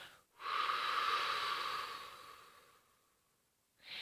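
A single long, breathy exhale blows out close by and fades gradually, followed by the start of another breath.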